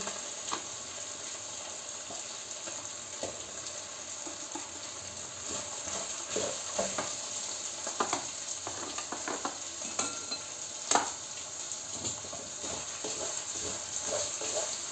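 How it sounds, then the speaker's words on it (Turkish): Chicken liver sizzles steadily in butter in a pan, a continuous frying hiss broken by occasional stirring scrapes and utensil clinks, close and alone. "Tereyağıyla de biraz kavrulsun."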